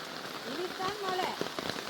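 Heavy rain falls in Jaffna amid strong swirling wind, a dense, steady hiss of rain on surfaces running throughout, with people talking close by over it.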